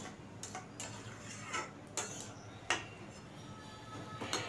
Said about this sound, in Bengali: দিয়ে আবারও আমি একটু খুন্তি করে চেপে কেটে নিচ্ছি। আর একটু ভালো করে নেড়ে মিশিয়ে নিচ্ছি।